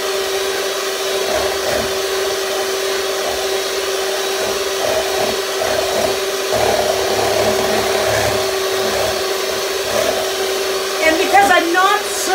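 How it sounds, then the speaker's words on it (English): An electric hand mixer whips a small amount of whipping cream in a bowl while the bowl is turned, giving a steady, loud motor whine that holds throughout. A brief scraping comes near the end. "I'm turning my bowl and I'm also moving my mixer"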